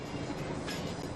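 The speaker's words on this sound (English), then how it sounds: "That's a train." A train rumbles steadily past at close range, a dense continuous roar of wheels and cars.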